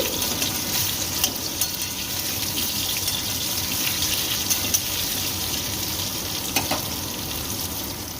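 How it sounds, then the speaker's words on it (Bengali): Potatoes deep fry in hot oil in a wok, giving a steady, dense sizzle that lasts the whole time, close and even, with faint clinks and stirring now and then and no speech. "আলু একদম লাল লাল করে কড়া করে ভেজে নেব"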